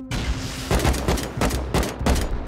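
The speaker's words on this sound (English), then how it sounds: "Just shoot a rocket." Rocket launcher fire and explosions in the survival game Rust, with several heavy booming blasts in a quick uneven series, loud and close, with no talk over them.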